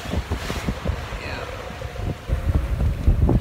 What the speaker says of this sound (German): Wir haben echt noch immer gut Wind,